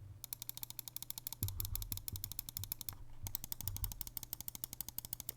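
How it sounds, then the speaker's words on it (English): A Corsair Katar XT gaming mouse clicked rapidly, its left and right buttons giving crisp, close, evenly repeated clicks in fast runs with a brief pause between, alone. "Right and left click."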